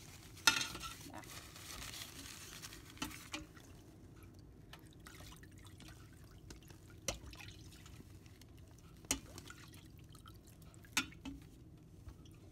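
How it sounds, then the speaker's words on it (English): Hot wax is poured and drips onto an encaustic collage, giving faint, soft liquid patters with a few sharper isolated drips spaced several seconds apart against a quiet background. "So don't worry too much about how you're pouring this on."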